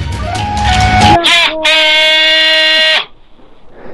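A person imitates a goat's bleat while wearing a motorcycle helmet, a strained wavering cry held for about a second and a half after a brief vocal lead-in, fairly loud and close.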